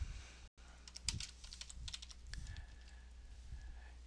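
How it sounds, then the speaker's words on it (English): Rapid typing on a computer keyboard while a chat message is entered: a quick run of crisp, irregular key clicks with short pauses between bursts. Fairly close and clear, with no talking. "By typing in a message now"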